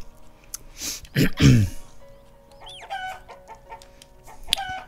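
A few chicken clucks and squawks in the video game Summer in Mara pop up in short bursts against quiet background, with some brief chirpy sounds in between.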